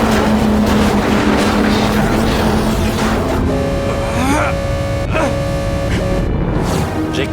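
Engines in the animated series Skyland accelerating hard: a loud, continuous roar with whining tones that sweep upward midway, sustained throughout with no pause.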